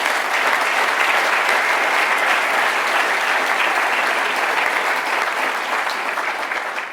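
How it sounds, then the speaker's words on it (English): Loud, sustained applause from a college audience greeting honorees at a presidential announcement, dense and even clapping throughout, easing slightly at the close. "Can we give them again another round of applause?"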